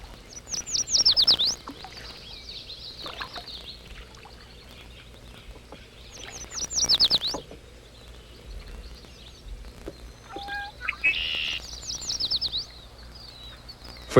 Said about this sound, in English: For Dan, these were often working trips, recording Algonquin songsters, even the common red-winged blackbird.